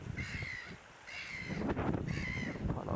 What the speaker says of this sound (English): Quite a lot of bird life down here.